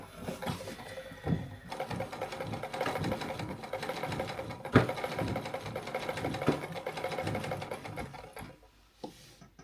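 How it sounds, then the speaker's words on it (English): A vintage Minerva sewing machine running steadily, a quiet, even mechanical whir with a soft rhythmic stitching clatter that eases off near the end. "but the machine works and it's very quiet"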